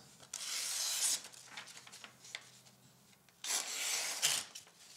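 A knife being drawn across a 400-grit whetstone at a 20-degree angle, two long gritty rasping strokes separated by quieter scrapes, close and without talk.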